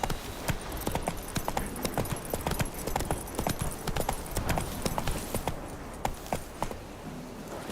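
Hooves of a horse (Roach) galloping in a video game (The Witcher), a steady, rapid clip-clop rhythm that runs throughout at moderate volume over a busy game soundscape.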